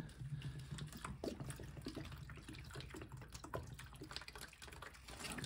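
Water poured into a potted plant indoors, a soft continuous splash and trickle into soil, close and fairly quiet with no talking.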